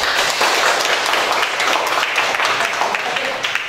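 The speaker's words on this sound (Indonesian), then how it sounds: "Tepuk tangan." A school audience claps and cheers at a vocational high school event after a chant, with steady dense applause filling the whole stretch.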